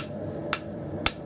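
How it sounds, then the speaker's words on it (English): Two sharp metallic hammer strikes on hot round bar stock at a forge while shaping a knife, spaced about half a second apart, crisp and close over a low background hum. "I'm hammering a tad softer,"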